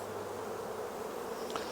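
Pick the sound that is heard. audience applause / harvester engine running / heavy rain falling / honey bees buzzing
honey bees buzzing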